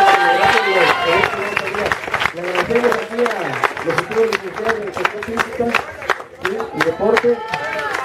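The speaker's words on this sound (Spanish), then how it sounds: "quisiera que nos diéramos un aplauso todos" An audience gives itself a round of applause at an event, scattered clapping mixed with cheering voices and lively crowd chatter, with talk running through the whole stretch.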